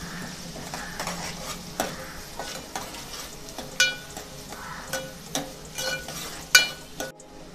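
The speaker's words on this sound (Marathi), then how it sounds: "कांदा आता आपण 2 ते 3 मिनिटांसाठी छान परतून घेऊया" Finely chopped medium onion frying in a pan for a Maharashtrian village-style black masala chicken, with a steady sizzle under repeated scraping stirs and clinks of a spoon against the pan, close and continuous.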